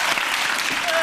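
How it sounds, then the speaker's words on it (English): Comedy panel show studio audience claps hands in a continuous, even burst of applause, with a voice faintly audible under the clapping. "clap your hands"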